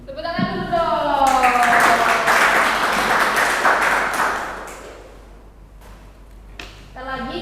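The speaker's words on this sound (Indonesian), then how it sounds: "Tepuk tangan dulu dong." Applause breaks out from the audience at a business training session, loud and dense for several seconds before fading away. It follows a voice speaking and is followed by more speech.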